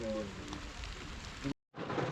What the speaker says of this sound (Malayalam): ഇപ്പം മഴ ചാറുന്നുണ്ട്.